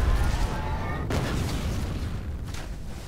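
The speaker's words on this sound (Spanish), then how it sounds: "Pero creo como que la explosión me siguió, weón." A loud explosion booms in the video game F.E.A.R., a heavy burst at the start that rumbles and decays over a few seconds, followed by a fainter secondary crack.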